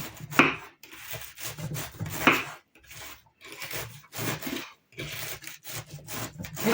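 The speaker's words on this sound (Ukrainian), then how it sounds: "Я вирішила нарізати ножем." A knife chops through cabbage on a board in steady, rhythmic strokes, each cut a crisp, close crunching thud, with short pauses between runs of cuts.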